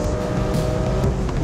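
Engines of a BMW E46 M3 and a Mazda MX-5 Miata roar steadily during a second-gear rolling drag race, a loud, continuous close-up drone with no talk.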